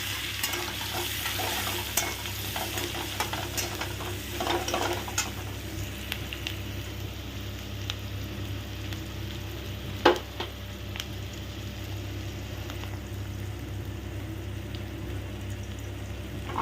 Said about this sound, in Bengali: দিয়ে দেবো একটু হলুদ আন্দাজ মতো অল্প করে দেব, দিয়ে ওকে একটু নেড়ে নাও